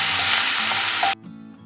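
Onions, curry leaves and green chilies hitting hot oil with popped mustard seeds for Madras-style masala idli: a loud, dense, close sizzle that cuts off abruptly after about a second.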